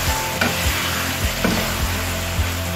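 Spicy fried pepper hake fish stirred in a hot frying pan: continuous sizzling and frying with repeated scraping stirs in a loose rhythm, close and fairly loud, with no talking.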